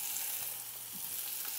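Meatballs sizzle and fry in a hot skillet with a steady, faint crackle.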